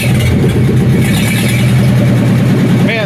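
A cheap old tractor engine runs with no muffler fitted, giving a loud, close, steady low throb with an even rhythm throughout.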